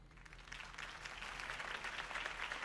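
Crowd applause following a campaign speech for Harvey Dent in Batman: The Telltale Series, a sustained wash of clapping that swells slightly and stays moderately distant and soft throughout.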